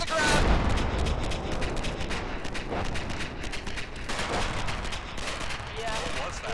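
Dense, continuous battlefield gunfire and explosions from the Arma video game during a ShackTac session, with sustained roaring blasts and volleys that swell near the start and again later in the clip.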